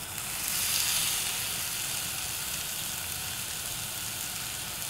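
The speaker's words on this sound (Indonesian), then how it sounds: "Nah, kita panggang." Salted fish grilling in a Teflon pan for Pangandaran-style grilled fish, a steady close hiss of sizzle swelling slightly early then holding even.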